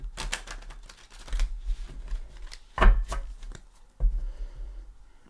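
Lustrous Tarot cards are shuffled by hand in quick riffling bursts and soft slaps, close and fairly quiet, with a sharper clack near the middle.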